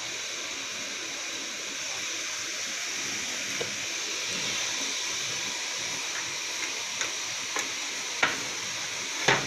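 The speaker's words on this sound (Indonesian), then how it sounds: "jadi mendidihnya harus ini ya, benar-benar mendidih, baru dimasukkan kerupuknya" Indonesian wet crackers (kerupuk basah) from Kapuas Hulu boiling in a pot of water at a full boil: a steady bubbling hiss with a few sharp knocks and clinks near the end.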